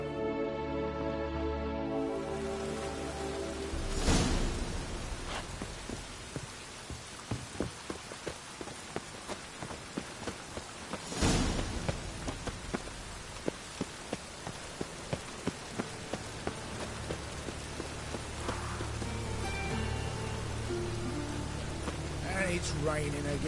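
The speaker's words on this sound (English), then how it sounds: "It's raining again." Rain pours steadily in The Witcher 3, a constant hiss with sharp droplet ticks and two louder surges, under game dialogue and a low ambient music bed.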